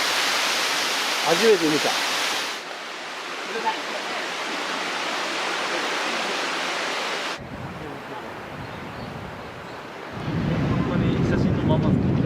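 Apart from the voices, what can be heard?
waterfall rushing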